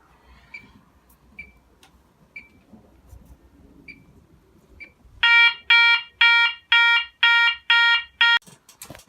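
A Gent 34202 fire alarm sounder at full volume blares an alert tone in loud, regular pulses, seven harsh bursts in steady rhythm, after a few faint ticking clicks.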